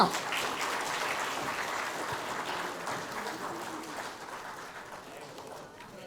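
Audience applause at an award ceremony on stage, a steady wash of many hands clapping that holds fairly loud and then gradually thins out over several seconds.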